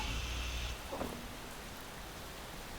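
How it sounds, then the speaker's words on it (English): Rain falls steadily in the video game Space Engineers as a soft, faint, continuous hiss, with a brief low rumble and a couple of light knocks early on. "Is it raining there, isn't it?"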